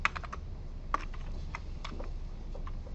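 Computer keyboard typing during a programming lecture, with a steady run of quick, light key taps, close and moderately quiet, with no talk over them.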